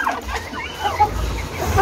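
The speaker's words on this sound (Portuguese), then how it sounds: "A galinha gosta, né, gente? De comer ração." Chickens clucking softly while pecking at feed on a farm in the early morning, scattered low clucks and rustling at moderate distance, with faint background noise.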